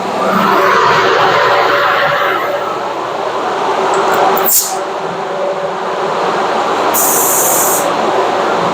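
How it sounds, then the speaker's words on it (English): A spray can lays down 2K primer in a long, loud, steady hiss that runs almost unbroken, with a brief pause midway and a short sharp high burst near the end. "I'm gonna start off by spraying this first."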